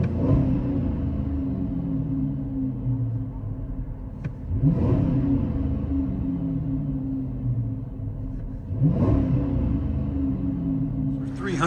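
2008 Chrysler 300C with 5.7L HEMI V8 and Flowmaster Super 10 exhaust, deep burbling idle broken by three short throttle blips, loud and close.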